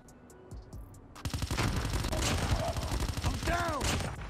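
Dense rapid bursts of HVK30 assault-rifle gunfire in Call of Duty Mobile kick in after a quiet second, sustained and loud, with other game effects layered in.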